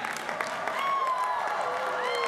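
Crowd at a university commencement event applauding and cheering, a broad sustained wash of clapping with whoops rising over it, fairly loud throughout.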